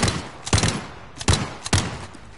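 Gunfire in a Call of Duty video game: three sharp, loud shots or short bursts spaced about half a second apart, with no talking.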